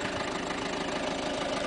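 A Ford Focus 1.6 TDCi diesel engine idles steadily with a low, even rumble and faint knock, constant and close.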